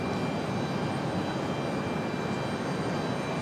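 A JetBlue jet airliner arriving at Raleigh Durham International Airport gives a loud, continuous engine roar with a steady high whine, unbroken throughout, with no voices over it.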